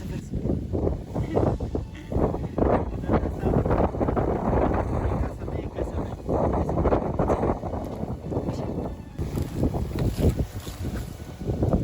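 Strong wind buffets the microphone at a lakeside fishing spot in icy conditions, a loud continuous rushing roar with gusty swells that never lets up across the whole stretch.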